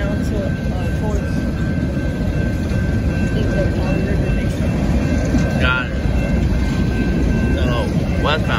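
Westbound BNSF coal train rolling past the Main Street crossing in Temple, Texas, as a loud, steady rumble of wagons fills the whole clip, with brief squeals over it.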